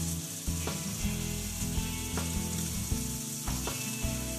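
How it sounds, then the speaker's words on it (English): Lamb forequarter sizzles in olive oil in a pan, a steady close frying crackle with occasional scraping and clinking from the pan. "Just a little bit of olive oil in the pan. Put our forequarter in there."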